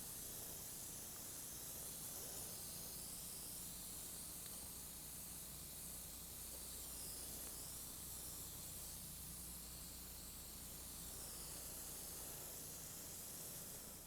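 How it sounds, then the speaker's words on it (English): Steady, unbroken spray hiss from a cheap airbrush driven by a propellant can, misting flat black-gray model railroad paint onto track. The hiss is loud and constant for the whole stretch, with no talking. "The secret is an inexpensive airbrush with a propellant can so that you're not tied down with an air hose."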